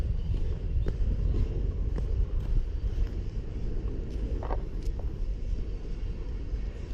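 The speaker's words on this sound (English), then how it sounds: "That is just Houston traffic for you" Steady Houston city traffic rumbles near a hike-and-bike trail in Montrose Heights, a continuous low roar of passing vehicles with faint wind across the microphone and no voices.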